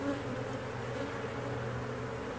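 A honeybee colony established for several years drones in a dense, continuous buzz while it is being removed, the hum steady and close throughout with no talking.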